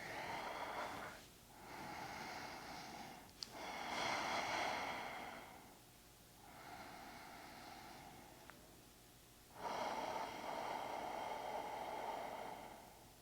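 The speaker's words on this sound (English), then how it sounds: "And breathe here." Slow, deep breathing in a seated morning meditation, long airy inhales and exhales rising and falling in soft waves over several cycles, close and steady with no talking.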